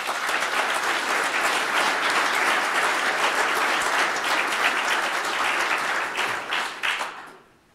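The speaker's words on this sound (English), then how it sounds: "Let's give him a round of applause." Sustained applause from an audience at a city state-of-the-city address for a sales manager, loud dense clapping that holds steady for several seconds before tapering off at the end.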